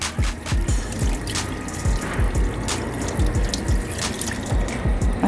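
Close, continuous splashing and gurgling of water pouring from a frog-shaped fountain into a garden pond, with irregular low bubbling throughout.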